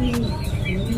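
A racing pigeon gives a soft, low cooing call close by, a brief steady murmur with faint chirpy overtones after a hard race.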